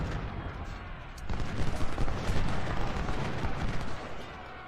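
Civil War battle gunfire in the Ultimate General game at Shiloh: a continuous dense crackle of musket volleys and artillery booms that swells louder after the first second and rolls on steadily.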